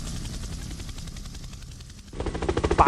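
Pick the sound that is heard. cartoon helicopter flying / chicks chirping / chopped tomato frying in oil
cartoon helicopter flying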